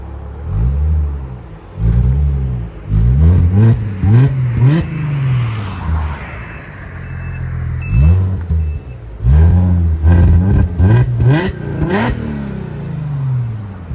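A 2015 Audi S5 3.0L supercharged V6 with an ECS cat-back exhaust revs hard in repeated bursts, rising and falling with a deep exhaust growl, loud and close, with short idle gaps between pulls.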